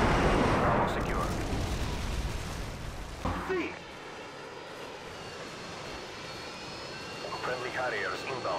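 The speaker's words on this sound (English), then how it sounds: "Friendly Harriers inbound." Friendly Harrier jets flying in during Call of Duty: Modern Warfare 2 gameplay, a loud roaring jet rush that swells in the first three seconds and then fades into a softer engine drone with game effects.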